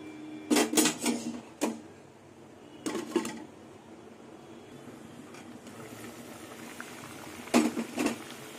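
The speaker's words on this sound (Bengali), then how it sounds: "ঝোলটা ফুটে গেছে, আর ঢাকবো না।" Fish curry broth bubbles in a pot, with a low steady simmer under several sharp clatters of a metal lid or utensil against the pot, close by and without talk.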